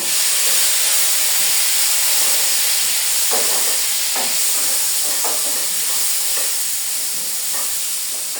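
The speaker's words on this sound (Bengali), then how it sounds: "সজনে আলু দিয়ে কিছুক্ষণ নাড়াচাড়া করার পর" Drumsticks and potatoes stir-fry in a pan, giving a loud steady sizzling hiss with several scraping stirs in the second half.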